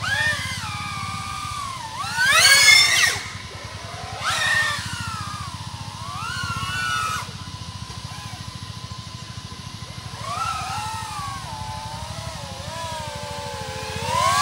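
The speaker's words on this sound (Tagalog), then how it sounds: "napakalakas ng quad na to" An OddityRC XI35 Pro 3.5-inch 6S cinewhoop quadcopter drone flies freestyle, its motors whining loudly in rising and falling pitch sweeps as it punches and turns, over a steady buzzing drone from start to finish.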